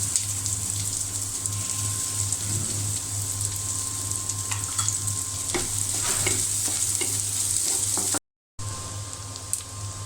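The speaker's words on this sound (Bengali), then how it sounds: "তারপরে দিয়ে দেবো আমি পেঁয়াজ কুচি।" Chopped onions fry with panch phoron in a pan, giving a continuous close sizzle broken by scattered stirring scrapes and a low hum underneath, with a brief dropout near the end.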